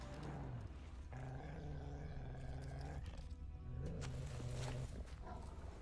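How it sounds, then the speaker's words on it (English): Dogs in The Witcher 3 growl and snarl in low, rough bursts close by, layered over ambient game background. "There's some dogs coming up here."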